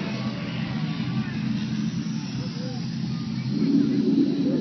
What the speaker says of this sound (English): Let's have another Royal Air Force bomber.